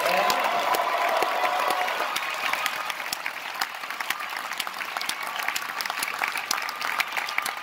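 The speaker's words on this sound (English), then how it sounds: "Clap for those wonderful cosplayers if you would." An audience at a bookstore release event for Brandon Sanderson's Starsight applauds a group of cosplayers: a dense, sustained round of clapping that holds steady, then thins slightly toward the end, with no voices over it.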